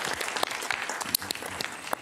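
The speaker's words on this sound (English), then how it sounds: "Whenever it says heroes by your name, we have to clap for them." Audience clapping at a district board of health meeting, a short burst of scattered hand claps in a room, moderately loud with a few sharp individual claps standing out.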